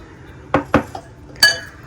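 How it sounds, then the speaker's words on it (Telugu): Onions being mashed with a potato masher in a metal pot for a Telugu raw tamarind curry: two quick knocks of the tool against the pan, a small tap, then a brighter clink, all close and without talk. "పొటాటో మ్యాషర్తో కానీ లేకపోతే పప్పు గుత్తితో కానీ లైట్గా ఇట్లాగా మ్యాష్ చేసుకున్నాం అనుకోండి"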